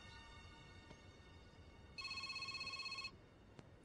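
A phone ringing from an unknown number, one electronic ringtone burst of about a second, quiet and tonal, in an otherwise hushed room.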